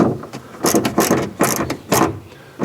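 Socket wrench ratcheting in a few quick bursts of clicking while tightening the passenger-side door handle on a Fiat 500, close and fairly loud, with brief pauses between strokes.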